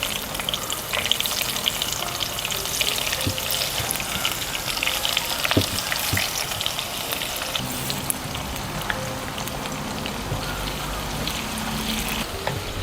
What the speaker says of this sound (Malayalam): അപ്പോഴത്തേക്കും നമുക്ക് പാവയ്ക്കകൾ കുറേശ്ശെ ഇട്ട് കൊടുത്ത് നമുക്ക് വറുത്ത് കോരാം.